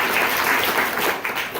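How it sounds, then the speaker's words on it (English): An audience at a magic show claps for a volunteer who has just shown a white rock, a short burst of dense, steady applause that stays even and full throughout. "Guys, give him a round of applause."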